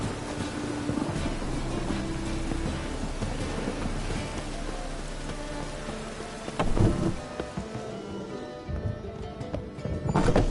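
In The Witcher, steady rain hisses throughout, with a heavy rumble of thunder rolling in partway through and another swell near the end.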